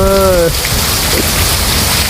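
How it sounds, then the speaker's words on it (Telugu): Dense, loud hiss of heavy rain pouring onto surfaces nearby, steady throughout, with a brief tonal hum at the very start. "ఒక్కసారి వర్షం చూడండి ఎలా పడుతుందో"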